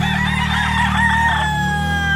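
A rooster crows once close by, loud and drawn out, over a steady low background hum.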